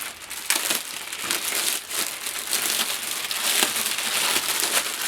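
Packaging of an SPD Voyager being torn open during an unboxing, with continuous close crinkling and crackling paper or plastic and brief sharper rips, no voices.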